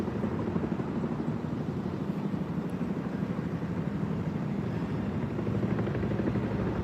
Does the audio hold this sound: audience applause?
no